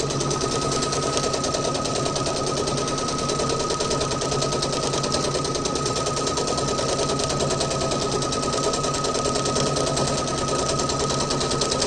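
A sewing machine stitches fabric for a pencil case in a fast, even mechanical chatter that runs loud and unbroken throughout, close by, with no voices.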